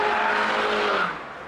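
A Mini Cooper S engine revs hard under full throttle with its overboost feature, a loud sustained roar with a rising tone that cuts off near the end, and no talking.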